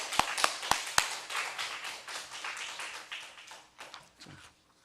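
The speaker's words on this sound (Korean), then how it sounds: "하나님께 영광의 박수 올리겠습니다" Several sharp claps ring out, then a church congregation breaks into sustained applause that gradually tapers off.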